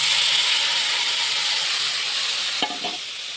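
Spice paste hitting potatoes frying in oil, a loud, steady close-up sizzle and hiss with one brief knock of a utensil toward the end.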